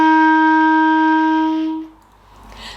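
Clarinet sounding an F with only the thumb hole closed, one steady sustained tone held for nearly two seconds before cutting off, clear and close with nothing else playing.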